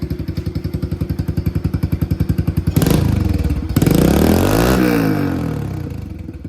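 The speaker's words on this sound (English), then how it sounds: "we'll give it a couple rev bombs" A Kawasaki KLX110R dirt bike with a Big Gun EVO exhaust idles with a steady rapid putter, then is revved hard twice in loud bursts that rise and fall back.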